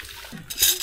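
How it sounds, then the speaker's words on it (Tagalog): Cold water splashing during a bath, a brief close splash and spatter that swells near the end of a short moment. "Sarap maligo, sobrang lamig ng tubig."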